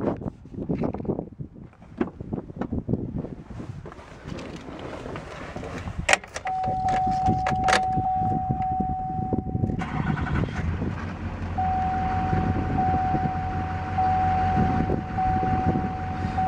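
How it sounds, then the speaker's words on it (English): A 2006 Chevy 3500 LT 4x4 with a Duramax diesel cranks and starts, then settles into a steady idle with a faint whine, heard up close without talk. "we'll start the truck up and you guys can listen to how she sounds"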